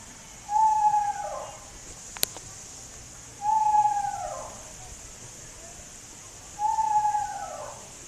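Three soft, wavering eastern screech owl whistles around a thousand hertz, each a short descending trill, spaced evenly with quiet gaps and a faint click between the first two.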